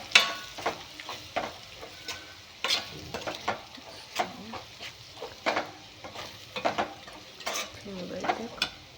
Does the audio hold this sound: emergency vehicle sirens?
no